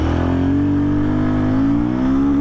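A Royal Enfield Guerrilla 450 motorcycle accelerates hard in first gear from a standstill, its engine note climbing steadily in a loud, close, continuous rev with no talk.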